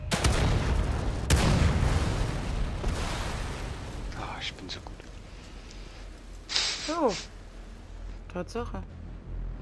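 Gunshots ring out in The Evil Within 2, loud booming blasts early on that fade into scattered softer hits and echoes, while a voice speaks briefly over them.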